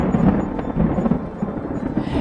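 Deep rolling thunder used as a sound effect in a dramatized Bible reading, a continuous, fairly loud rumble with rain-like noise and no voice over it.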